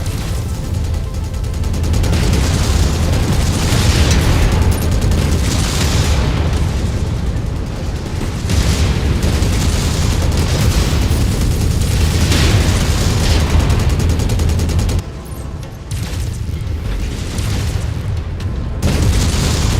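Loud, dense weapons fire and rolling explosions from the MechWarrior 5: Mercenaries video game, pounding continuously for the whole stretch with only a brief dip before resuming.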